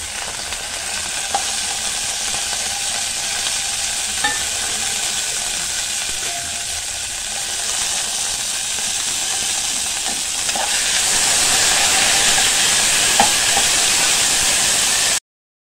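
Green chilies and mint leaves frying in a teaspoon of oil in a pan, a steady close sizzle with scattered spatter pops and stirring, growing slightly louder and hissier toward the end.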